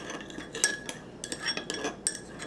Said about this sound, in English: I'm gonna mix this together, and then we'll add this to the stir fry.